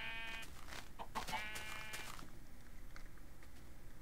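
Sheep on a small Minecraft farm give a few short, thin bleats, one near the start and more a second later, over quiet game ambience.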